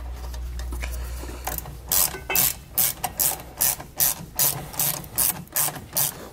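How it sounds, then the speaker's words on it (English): A ratchet fitted with a 1/2-inch socket tightens brake caliper bolts during a disc brake conversion on a 2020 Jayco Pinnacle fifth wheel trailer. It makes a quick series of close, crisp clicking bursts in a steady rhythm, with no voices. "We can go ahead and insert our bolts here and tighten them down with a 1/2-inch socket."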